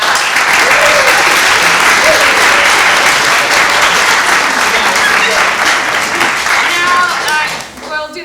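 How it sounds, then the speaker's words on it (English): A workshop audience applauds its panelists with dense, sustained clapping that fills the room near and loud, fading out at the end as a voice begins to speak. "first let's give a round of applause to the panelists for that."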